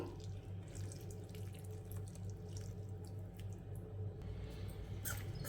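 Cooled oil is poured into a bowl of chopped green chilli pickle mixture, giving a faint, steady trickling flow with a slight splash at the end and no speech.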